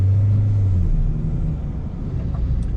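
A red 4x4 jeep accelerates, its engine giving a loud, close, low rumble that rises briefly and then eases off.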